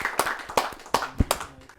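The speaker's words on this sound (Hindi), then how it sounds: "आइए जोरदार तालियों से उन्हें बुलाते हैं।" Scattered hand claps from a poetry gathering audience welcoming a poet, a handful of separate claps spread loosely across the moment rather than a full ovation.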